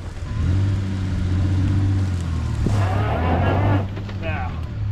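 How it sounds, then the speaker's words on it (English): A recovery vehicle tugs a 1970s Lincoln Continental, left sitting for 30 years, into position on a kinetic rope. Its engine holds a loud, steady rumbling drone that surges briefly near the end. "Let's tug her down into position with the kinetic rope."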